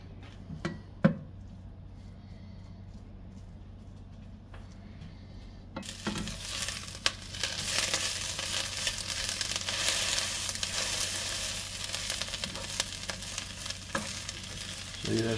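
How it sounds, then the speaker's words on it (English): Poke salat leaves sauté in hot bacon grease. A quiet stretch with a few clicks gives way to a steady, loud sizzle and crackle that runs to the end. "we're going to let them heat up in this bacon grease, saute just for about a minute till they turn a little bit darker green"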